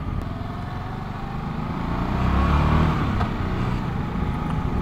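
Voge 650 DS adventure motorcycle engine running while riding and shifting up into first and second gear, a steady close engine drone with a slight swell in revs midway and a notchy, clunky gearchange.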